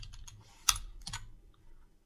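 A few quiet keystrokes on a computer keyboard while text is entered in video editing software, one sharper click standing out among soft taps, close and otherwise quiet.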